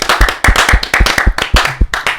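A small group claps enthusiastically in a casual podcast setting, a burst of sharp, close hand claps in an uneven rapid rhythm lasting a couple of seconds, with no talking over it.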